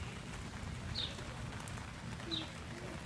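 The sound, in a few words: rain falling on surfaces during a rainstorm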